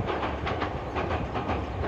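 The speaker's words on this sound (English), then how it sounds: "The sound of the train crossing the bridge echoes throughout the area." A Toyama Regional Railway train crosses a bridge in Toyama Prefecture, giving a steady rolling rumble with a rhythmic clickety-clack of wheels, loud and echoing, with no voices.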